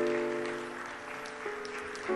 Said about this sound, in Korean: 우리 박수로 축복하며 격려하십시다